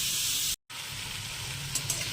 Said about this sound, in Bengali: আমার বিট ভাজাটা হয়ে এসছে, আর একটু ভাজা হলে হয়ে যাবে